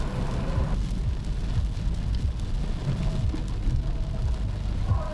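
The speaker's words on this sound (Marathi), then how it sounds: "जोरात पाऊस आलेला आहे" Heavy rain falls during a motorbike ride near the Kasheli tunnel, a dense steady roar with low road and wind rumble beneath it, loud throughout.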